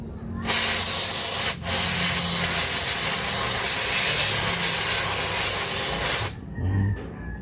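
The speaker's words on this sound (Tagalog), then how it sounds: "Tapos spray nyo ng brake cleaner." Brake cleaner sprayed from an aerosol can onto the front brake of a Toyota Innova 2.8: a long, loud, close hiss lasting several seconds with a brief pause near the start, then a short second burst.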